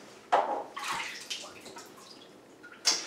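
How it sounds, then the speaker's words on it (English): Disassembled brass instrument pieces lowered into a tub of washing water, giving a few splashes and sloshing bursts with gentle trickling between, close by and fairly loud. "disassemble this, place it in the water, and we'll let it sit there for about 30 minutes"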